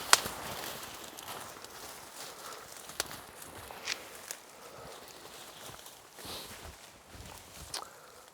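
Footsteps picking their way down a steep hillside with goats close behind, irregular crunching steps and scuffs with a few sharper knocks, near and fairly quiet over steady outdoor background.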